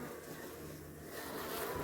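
Honeybees crowd the frames of an open hive in a beeyard, giving a faint, steady, close droning hum with no pauses.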